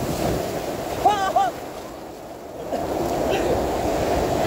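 Big ocean waves surging and crashing at a beach in Digha, a broad continuous roar with wind buffeting the microphone and brief voices over it.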